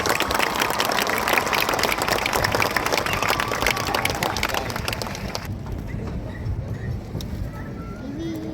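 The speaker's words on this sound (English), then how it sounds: "Please join me in one more round of applause" A crowd applauds at an awards ceremony for gold card recipients, dense, steady clapping that thins out near the end, with voices mixed in.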